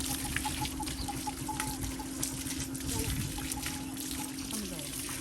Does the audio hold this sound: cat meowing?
no